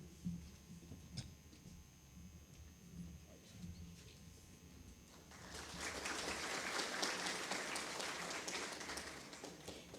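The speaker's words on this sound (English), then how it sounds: "please give a big round of applause for our esteemed dignitaries" A quiet room gives way to an audience at an engineers' conclave inaugural session breaking into steady applause for dignitaries that continues to the end, sounding somewhat distant.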